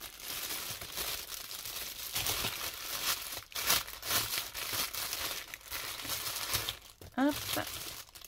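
Plastic packaging of a Temu kitchen item being torn open, a close, busy run of crinkling and tearing lasting several seconds, with brief speech-like sounds near the end.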